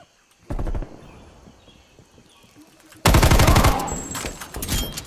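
Hip-fired automatic gunfire in Call of Duty Black Ops Cold War, hardcore free-for-all on the Apocalypse map: a short loud burst, a pause, then a longer sustained volley of rapid shots up close.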